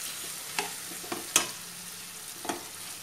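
Chicken pieces for a pepper chicken fry stirred in a hot pan over a low flame, with a steady faint sizzle broken by a few sharp scraping stirs, close and without talk.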